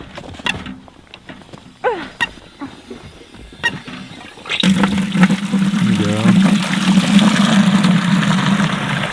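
Water gushes from a frozen outdoor hand pump in deep winter cold, first scattered clanks and creaks from the stiff handle, then a steady loud rushing stream that continues to the end.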